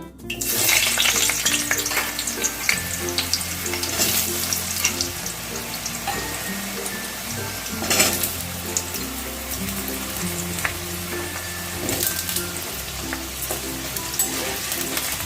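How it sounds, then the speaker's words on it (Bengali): Potatoes frying in mustard oil in a wok give a loud, continuous sizzle. Occasional stirring scrapes and a steady low hum run beneath it, with no one speaking. "এবার আমি প্রথমে আলুগুলোকে ভেজে নেব"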